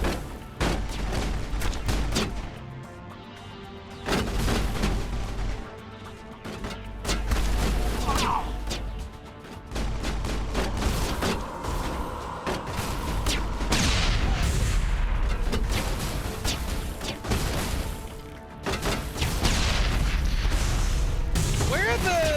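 Explosions and bursts of gunfire in the video game Mass Effect come in repeated loud booms and crackling volleys through the stretch, under a player's excited talk.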